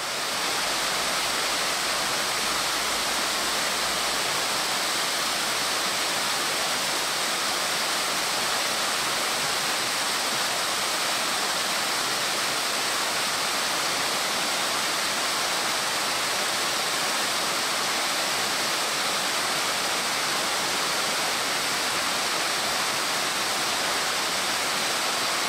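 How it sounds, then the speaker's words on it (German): Fountain water features splash steadily in a palace garden in Detmold, a continuous broad rushing and pattering of falling water, close and even throughout with no voices. "Es ist schon beeindruckend, wie das Wasser sich seinen Weg sucht."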